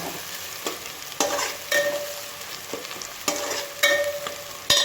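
Veg hakka noodles being tossed and mixed in hot oil, a series of sharp scraping strokes and sizzling bursts in quick succession, close and fairly loud, with no talking.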